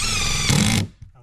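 A power drill drives screws into the exterior of a remote cabin, giving one loud, close, steady whir that ends abruptly after under a second and is followed by quiet.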